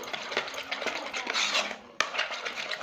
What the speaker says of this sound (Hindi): अब इसको बीट करें, बहुत ही अच्छी तरह से बीट करना है आपको।